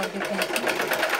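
A sewing machine reinforcing a line of stitching on a tear drop piece, a brief steady rattling hum close by with rapid needle pulses.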